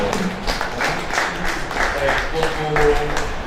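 A crowd applauds at an International Day of Persons with Disabilities gathering, moderate clapping running beneath a speaker's voice for the whole stretch.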